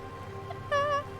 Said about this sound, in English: Be careful, kitty. Not on the keyboards.